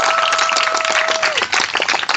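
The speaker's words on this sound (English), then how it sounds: "So a round of applause." Crowd applause at a Democratic Party political rally in Olean, with dense, continuous clapping from an audience and a brief steady tone fading out partway through.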